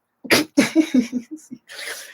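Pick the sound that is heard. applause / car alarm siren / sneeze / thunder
sneeze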